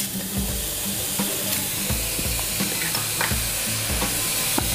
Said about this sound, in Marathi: पॅनमध्ये आपल्याला भोपळा हा शिजवून घ्यायचा आहे.